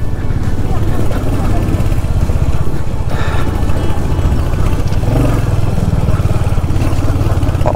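A Royal Enfield Hunter 350 motorcycle rides a mountain road from Padamchen to Zuluk, its engine droning steadily and loudly up close alongside wind rumble, with talking mixed in.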